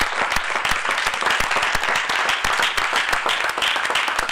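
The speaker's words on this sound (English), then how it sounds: "Give Miss Hua a hand clap." A congregation at a livestreamed service claps for Miss Hua, a dense burst of many hands applauding steadily and loudly for a few seconds, fairly close.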